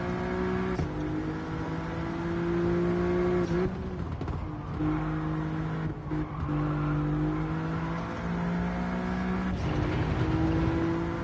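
Throaty race car engines roar steadily in a racing video game, with sustained revving tones that shift pitch through gear changes and a brief tire squeal, loud and continuous with no talking.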